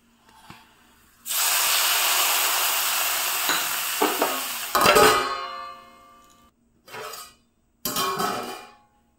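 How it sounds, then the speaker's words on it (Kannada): A hot tempering of oil, garlic, asafoetida and curry leaves hits a raw jackfruit stir-fry with a loud sustained hiss lasting several seconds, then breaks into shorter sizzling bursts and pan clatter as it is stirred. "ಈಗ ಒಗ್ಗರಣೆ ಹಾಕುವ."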